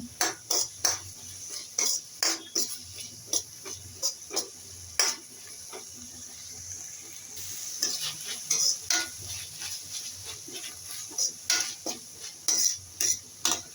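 Tomatoes sauté in a pan while a utensil scrapes and stirs them in sharp, irregular clinks and scrapes, over a soft, continuous sizzle up close, with no talking.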